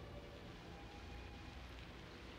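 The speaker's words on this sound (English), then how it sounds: "Rain." Rain falls steadily as a dense, even hiss, broadband and unbroken, heard during a storm scene in an animated Dragon Ball episode.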